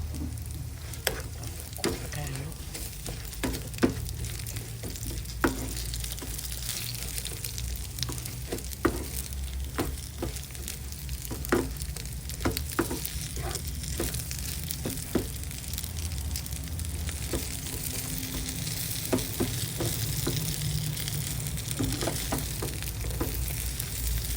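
Sun-dried snakehead fish frying crisp in hot oil in a pan, a loud continuous sizzle with scattered pops and occasional stirring clicks throughout.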